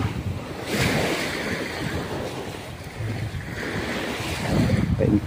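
Rough sea waves wash against a beach shore, a continuous close surf rush with wind buffeting the microphone, swelling louder toward the end.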